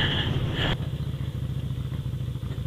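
A Yamaha Virago 250 motorcycle is ridden on a cold early-season day, its engine running with a steady throbbing pulse and a slight misfire on the second cylinder, heavy wind roar at first and then a clearer rhythmic chug.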